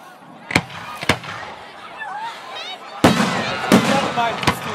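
Firework shells of 2.5 to 5 inches are launched at a Schützenfest display in Dormagen, with sharp booming reports that come one after another, and the crowd murmurs and talks in between.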